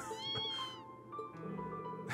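A mother cat in the game Trails of Cold Steel 2 gives a drawn-out, wavering meow and then a second call, both close and clear over quiet background music.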